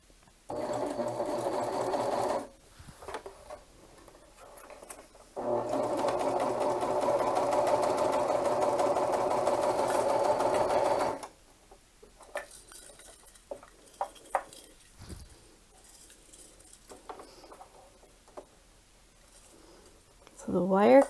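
A serger stitches ribbon with a wire inside, running in two steady bursts of even mechanical hum with a short stop between. Quieter handling sounds and small clicks follow once it stops.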